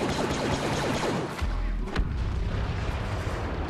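Blaster and cannon fire in Star Wars Battlefront on the Bespin map, a rapid series of sharp shots followed by heavy booming thumps, loud and close, with no talk.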